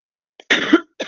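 A single short, harsh cough, followed by a quieter second cough, close up with nothing else around it.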